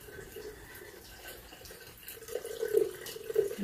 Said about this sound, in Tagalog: Ayan ang tubig namin guys. Mahina.